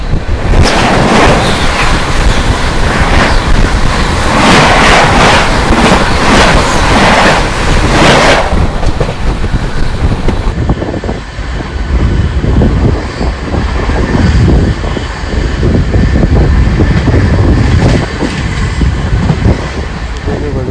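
The 14006 Anand Vihar–Sitamarhi Lichchhavi Express comes toward the listener, a loud, continuous rumble of wheels and running noise that stays steady throughout and roughens in its later half.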